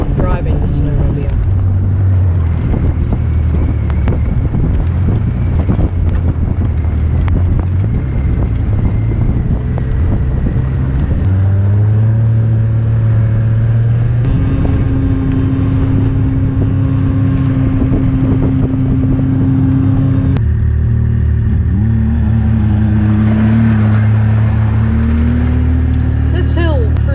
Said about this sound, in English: It's quite nice being able to look around and see the scenery rather than concentrating on driving the snowmobile.